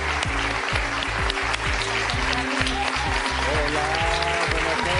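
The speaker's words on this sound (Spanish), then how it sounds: "Vamos a recibirlos con un fuertísimo aplauso." TV talk show studio audience claps and cheers loudly as guests are welcomed onstage, a dense continuous roar of applause with heavy rhythmic thumps and some whooping voices over it.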